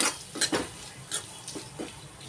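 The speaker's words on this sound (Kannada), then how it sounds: "ಇದನ್ನು ಸ್ವಲ್ಪ ಟೊಮೊಟೊ ಮತ್ ಮೆತ್ತಗಾಗೋವರೆಗೂ ಹುರ್ಕೋಣ" Tomato and onion are stirred and fried in a pan for brinjal chutney: a spatula scrapes and taps the pan in several quick strokes over a faint sizzle, with no talking.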